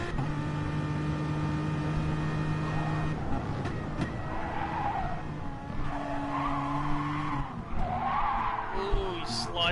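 A Jaguar race car slides through a chicane with tyres skidding and squealing, its engine droning steadily underneath, loud and close throughout.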